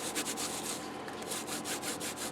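An adhesive remover rubber rubs back and forth over gilding wax on bookbinding cloth, a soft, close, rhythmic scrubbing hiss with quiet repeating strokes.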